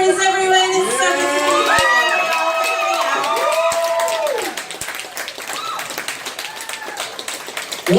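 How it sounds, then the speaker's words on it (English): Loud, steady audience applause and cheering for comedian Lenny Peppers at a comedy club show, a dense wash of clapping with whoops that holds for several seconds and then thins slightly. "One more time for Lenny Peppers, please."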